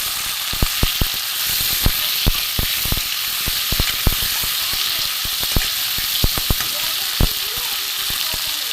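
Potatoes frying in a pan for a vegetarian cabbage curry, a loud close sizzle broken by sharp crackling pops and spatters throughout.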